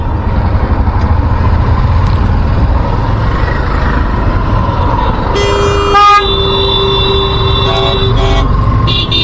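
Heavy traffic jams a road at Nayabazar, Chittagong, with auto rickshaws and tempos stopped mid-street. A constant engine rumble fills the scene, and several loud car horn honks sound in the second half, some short and some held.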